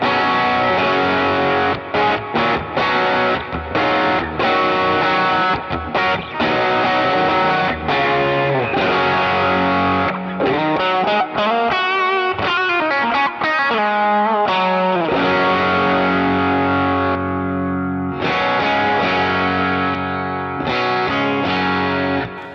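An electric guitar plays through a Line 6 HX Stomp with the Mythical Overdrive boost pushing the amp, giving a loud, driven, slightly chorused worship tone with sustained chords and single notes played alone.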